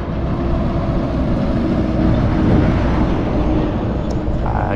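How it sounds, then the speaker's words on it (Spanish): Mercedes truck approaching and passing on a highway at kilometre 542, a steady loud engine rumble and road roar that peaks midway and eases off, with brief speech over it. "Aquí viene este Mercedes"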